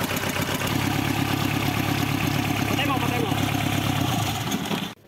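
A diesel engine idles steadily right after air has been bled from its injection pump, with a close, continuous rumble and light clatter that stops abruptly near the end.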